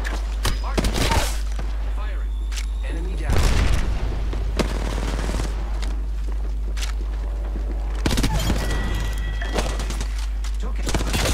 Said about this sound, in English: Thermite grenade out.